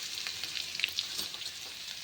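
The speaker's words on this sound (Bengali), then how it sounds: "আর এইখানে দেখো আলু ভাজা হচ্ছে।" Potatoes fry in a pan with a continuous bright hiss and faint crackling, steady and close, with no voices over it.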